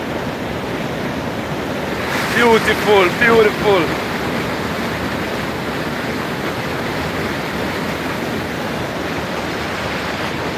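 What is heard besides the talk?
waterfall near a Blue Mountain coffee farm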